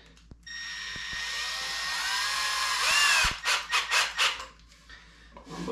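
A power drill whines at rising speed as it bores into wood, then several short bursts of drilling follow in quick succession, close by.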